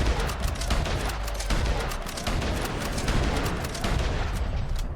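Steady non-rapid gunfire from Red Dead Online, a dense series of loud shots blending into continuous booming over a short stretch, with no talking.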